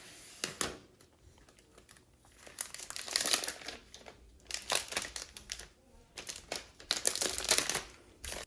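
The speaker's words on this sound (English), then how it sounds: "So you guys just saw me unbox the iPad Pro 11-inch" Unboxing an Apple 2020 iPad Pro 11-inch: close crinkling, tearing and rustling of packaging and wrap in uneven bursts, quiet and without talk.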